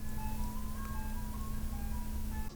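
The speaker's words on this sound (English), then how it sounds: "The ice cream truck is going by right now." An ice cream truck drives past, its tinkly tune playing steadily at moderate distance over a constant low engine drone.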